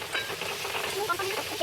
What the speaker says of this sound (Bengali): ভালো করে নেড়ে চেড়ে নিয়ে দেবো, একটা পুর বানিয়ে নাও ভালোভাবে।